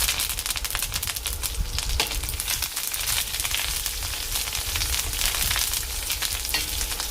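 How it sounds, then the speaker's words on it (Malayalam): Mustard seeds, dried red chillies and curry leaves sizzle in hot coconut oil for a potato curry, a loud continuous close crackle with dense rapid popping and spitting throughout. "കടുക് ചേർക്കാം. ഇനി വറ്റൽമുളക് ചേർക്കാം. കുറച്ച് കറിവേപ്പിലയും കൂടെ ചേർക്കാം."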